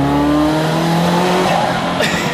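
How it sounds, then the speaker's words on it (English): A Ferrari F40 drives hard, its loud, close engine droning in steady tones before a sharp burst of noise near the end as the car slides. "it's been once in a lifetime experience driving an F40"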